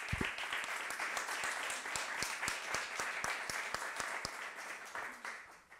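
A crowd at a talk on architectural heritage applauds the architects steadily, many hands clapping together at an even level before the clapping thins and fades out.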